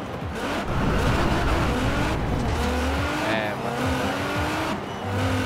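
Car engine revving with tire squeal in the Forza Horizon 4 racing game, a loud continuous motor note rising and falling with shifting pitch over several seconds, with a voice talking over it.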